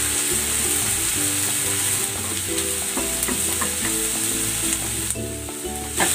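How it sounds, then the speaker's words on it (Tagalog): Garlic and onion sauté in hot cooking oil for an eggplant dish, a loud, steady sizzle with scattered scraping and clicking stirs throughout and no talk. "Gigisa ko na tong bawang. Lalagay ko na rin tong sibuyas."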